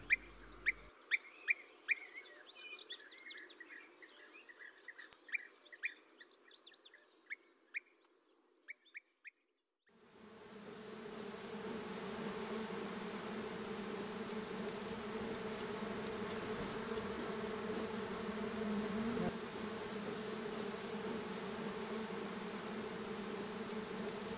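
Honeybees forage in a midsummer heatwave during a honey harvest, first as bird chirps over quiet, then as a steady, dense buzzing swarm that sets in abruptly and holds close and even.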